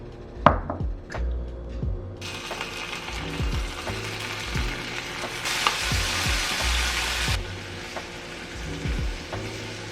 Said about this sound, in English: The shrimp is almost done cooking